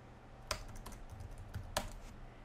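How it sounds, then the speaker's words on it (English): Quiet close-up typing on a computer keyboard, a few soft key taps with two sharper clicks over faint background hiss. "just type in Google Chrome"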